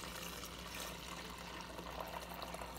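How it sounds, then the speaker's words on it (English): Liquid from cooked vegetables pouring into a freezer bag propped open in a deli container, heard as a steady, fairly quiet splashing trickle that runs unbroken throughout. "it allows me to just go ahead and pour the liquid"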